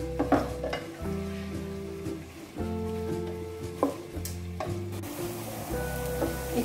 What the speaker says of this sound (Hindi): इसमें अब ये थोड़ा सा और फ्राई होगा। इसको हमें गोल्डन ब्राउन करना है।